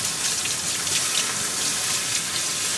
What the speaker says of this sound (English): I'll add some water to the bottom of this thing.